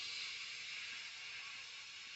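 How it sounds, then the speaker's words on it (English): Toy steam locomotive, a Hornby or Bachmann model train, letting off a soft, steady hiss of steam that fades slightly toward the end, alone and fairly faint. "He just let off steam feebly."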